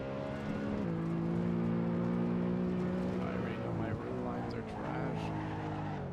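Tires of a BMW E92 M3 squealing as the car slides on the Nürburgring, a sustained tonal screech over the steady engine roar, close and loud with a slight dip near the middle.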